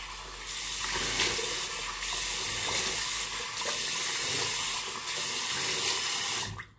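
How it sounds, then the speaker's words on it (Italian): Cold water running steadily from a tap into a sink, a constant hissing splash for several seconds that cuts off at the end. "Acqua fredda."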